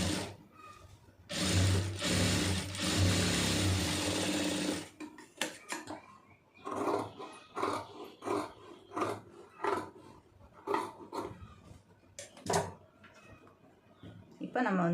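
A sewing machine runs in a steady loud burst while stitching fabric, then gives way to short clicks and mechanical handling noises amid quieter pauses.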